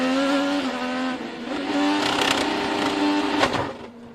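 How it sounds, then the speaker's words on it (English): A loud race car engine with a stuck throttle drones at a steady high pitch during a race, holding one sustained tone with a brief surge near the end before easing off. "It sounded like the throttle stuck."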